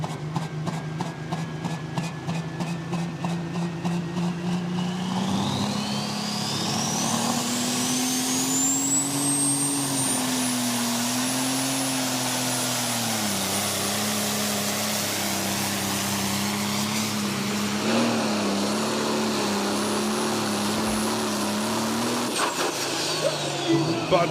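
Pro Stock pulling tractor Diesel Ross straining through a pull at a Knutwil tractor-pulling event, its engine droning loud and steady with a climbing whine, an announcer talking over it.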